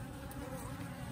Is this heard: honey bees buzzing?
yes